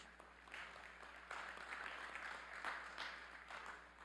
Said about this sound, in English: How about a nice round of applause for all those fine individuals?